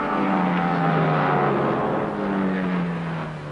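Race cars at Le Mans, including a GT Ferrari, a Spitfire and a Porsche, roar past as a steady, loud engine drone with shifting pitch that holds throughout and eases slightly toward the end.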